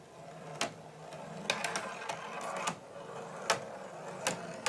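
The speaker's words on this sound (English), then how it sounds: "what you're gonna see here is the original rolling ball ball bearing" 10 mm AISI 316 stainless steel ball bearing rolling down a ramp, a faint continuous rumble punctuated by a series of sharp clicks and taps as it travels.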